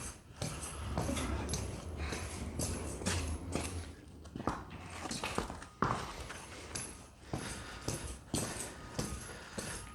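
A horse shifts its weight and steps during a saddle-fitting session, its hooves thudding and clopping unevenly on the ground amid rustling and handling noises close by.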